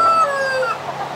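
A rooster on a homestead crows briefly, a loud, sustained harmonic call over a steady low background hum, close by.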